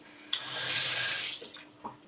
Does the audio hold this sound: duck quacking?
no